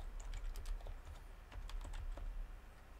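Quick, irregular keystrokes on a computer keyboard, soft and close, with no talking.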